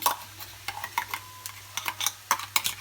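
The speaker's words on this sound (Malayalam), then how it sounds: "ഇതും കൂടി ഞാനിതിലേക്ക് മിക്സ് ചെയ്യുകയാണ്" A spoon scrapes and clinks in a pan as tomato is stirred into sautéing onion masala, with irregular sharp taps and scrapes over a faint sizzle, close and fairly quiet.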